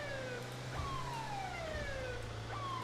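A police car siren in GTA 5 wails steadily, its pitch sweeping down in repeated cycles over a low engine drone, moderately loud and continuous throughout.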